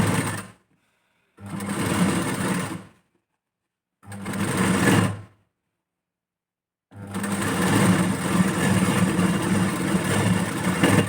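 Sewing machine stitching a folded blouse strip a quarter inch from the edge, running in three bursts separated by pauses, the last one long and steady, loud and close with no talking.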